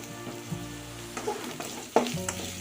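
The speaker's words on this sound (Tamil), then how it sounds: "நல்லா இதை ஃப்ரை பண்ணிக்கலாம்." Asafoetida powder sizzles in hot oil for a tempering while being stirred, a close, steady crackling fry with soft scraping and a sharper clink near the end, no voices.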